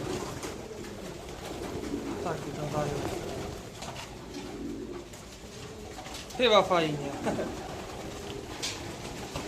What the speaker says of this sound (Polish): tu w środku są nasze ptaki